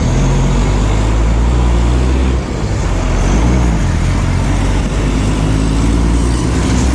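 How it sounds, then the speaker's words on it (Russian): A bus drives by on a city street, its engine a loud, steady broadband rumble that swells slightly as it passes close, with continuous traffic noise and no talk. "Сейчас автобус проедет."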